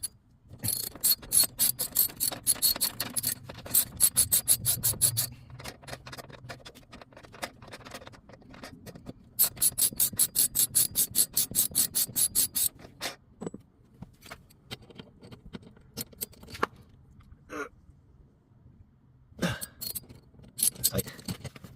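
A hand ratchet works the front T50 seat bolts in a Toyota Highlander: rapid, close clicking runs in long bursts with short pauses, then slows to scattered single clicks toward the end.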